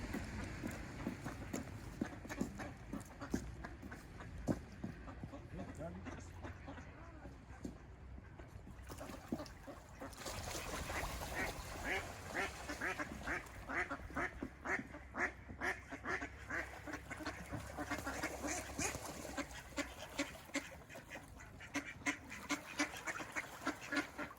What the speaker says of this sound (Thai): เป็ดเยอะมาก ๆ เลยจ้าพี่น้อง